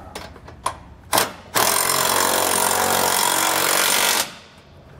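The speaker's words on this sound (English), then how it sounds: "We're going to use a 3/4-inch socket or wrench for this one." A power tool driving a bolt on a SumoSprings helper spring install on a 2005 vehicle, a loud sustained rattling whir lasting about three seconds after a few short bursts and clicks.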